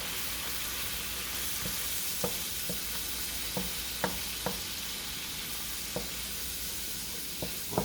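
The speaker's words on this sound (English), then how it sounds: "Stir that up" Curry shrimp stir-fry being stirred in a hot pan, a constant loud sizzling hiss punctuated by regular light clicks and taps of the spoon against the pan.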